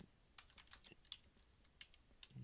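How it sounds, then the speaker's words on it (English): Someone types data entries into a database on a computer keyboard, a quiet, irregular patter of light key clicks with a few sharper taps, heard alone at low volume. "we're going to type in here, Jones,"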